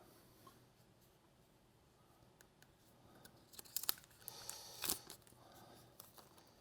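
Blue iPod Shuffle packaging being opened: faint, quiet rustling and crinkling with a few short tearing bursts around the middle, in an otherwise hushed room.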